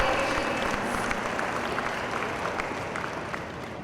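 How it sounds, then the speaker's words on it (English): Dense, steady applause from an audience at a postgraduate orientation programme, a continuous wash of clapping that holds level and fades slightly toward the end. "May we please again have a huge round of applause for all"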